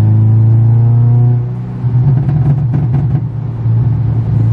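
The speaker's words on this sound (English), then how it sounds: "Let's get some pop and bangs on the go." A Honda Civic EP3 engine idles with a loud, steady drone, then dips as the revs fall, followed by a burst of crackling exhaust pops and bangs close by.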